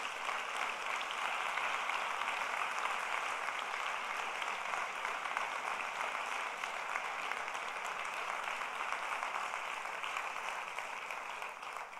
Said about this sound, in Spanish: Quiero pedir un aplauso muy fuerte para todas estas personas.